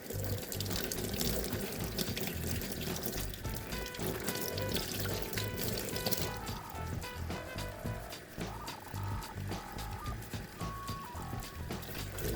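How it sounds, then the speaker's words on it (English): Water pours and splashes steadily while a paint stencil is washed, the flow alone at close range and continuous, with small clatters and gurgles mixed in and no one talking. "then washed the stencil."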